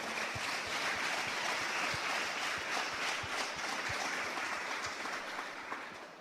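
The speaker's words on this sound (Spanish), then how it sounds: "Dale una ofrenda de aplauso al Señor." A church congregation gives a sustained offering of applause during a sermon, a thick, steady wash of many hands with faint rhythmic thumps underneath, loud and continuous throughout.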